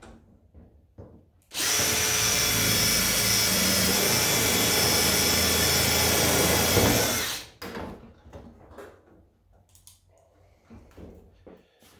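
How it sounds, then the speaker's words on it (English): A power drill whines loudly and steadily for about six seconds, biting into sheet steel for a car hood scoop, framed by quieter handling noises before and after. "I'm going to drill that now in a couple of spots"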